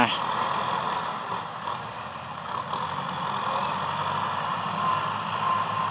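Kubota tractors of 50 and 60 horsepower pushing soil to level a rice field, a steady mid-level diesel engine drone that holds constant throughout with no pauses.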